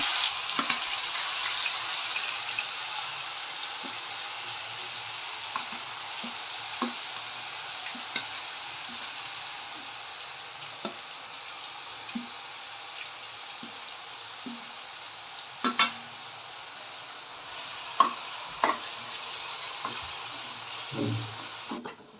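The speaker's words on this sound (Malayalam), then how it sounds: "അതിലേക്ക് രണ്ട് സബോള ചതച്ചത് രണ്ട് കൂടം വെളുത്തുള്ളി ചതച്ചത് ഒരു മീഡിയം ഇഞ്ചി ചതച്ചത് ചേർത്ത് നന്നായി ഇളക്കി കൊടുക്കുക" Crushed onion, garlic and ginger frying in a pan for crab curry with coconut milk: a steady close sizzle with occasional spoon clinks and scrapes as they are stirred, no voices.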